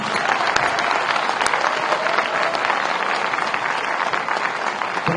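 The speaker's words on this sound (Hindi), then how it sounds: "जरा उनके लिए भी ताली बजाओ" At a university convocation ceremony, a hall audience breaks into steady, dense clapping that carries on evenly and loudly for about five seconds with no talking over it.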